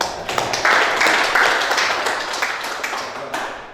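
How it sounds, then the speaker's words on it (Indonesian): Audience applause at a church gathering in Desa Lingga, a dense wash of many hands clapping that starts within the first half second and carries through the whole stretch, fairly close and fading slightly near the end. "Tepuk tangan dulu."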